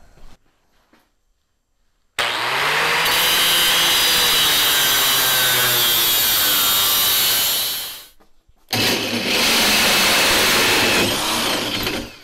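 A hole saw cuts a notch in a steel tube for a budget crosskart frame: a loud, sustained grinding whine about six seconds long, a brief pause, then a second burst of cutting.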